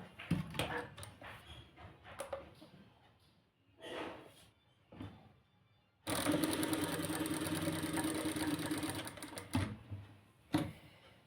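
A sewing machine stitches salwar lining in bursts, a sustained run of rapid mechanical stitching in the middle after shorter intermittent starts and stops, close and fairly loud.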